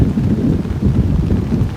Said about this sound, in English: This is what I'm waiting for. Downpour.